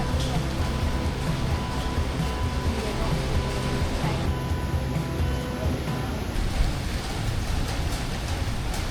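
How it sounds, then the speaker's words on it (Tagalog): Heavy rain comes down outdoors as a steady, dense roar of broadband hiss with no pauses, loud and close, with no voices standing out. "tapos ngayon biglang ang lakas ng ulan"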